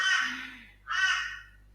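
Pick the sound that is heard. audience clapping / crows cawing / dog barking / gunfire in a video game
crows cawing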